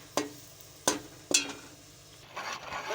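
Semolina being stirred and roasted in ghee: three sharp knocks of a spoon against the pan come at a steady pace, followed by a soft gritty scraping and faint sizzle, with no talking.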